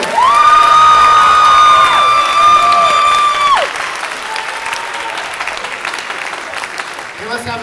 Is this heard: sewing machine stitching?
no